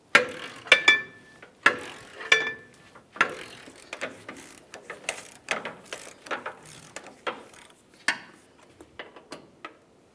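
Socket wrench with an 18mm deep socket and extension ratcheting off a mounting nut on a 2005-2010 Dodge Dakota 4.7L V8, giving irregular close clicking strokes that quicken and fade over the clip.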